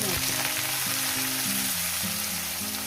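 Onions drop into hot oil and fry with a loud, dense, continuous sizzle close up, cooked outdoors by a riverbank for a dried-fish masala fry. A faint low tonal hum runs underneath.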